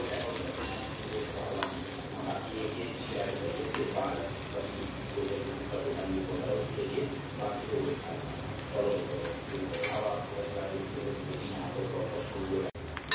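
Raw banana slices fry in a pan for a sabzi, giving a steady close sizzle and crackle with occasional scrapes of stirring, while a person talks over the cooking.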